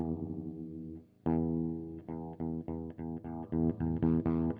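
Electric guitar run through an effects unit tuned to E with overdrive pushed up, a sustained distorted tone followed by a burst of repeated chopped notes in uneven rhythm, loud and close with no talking.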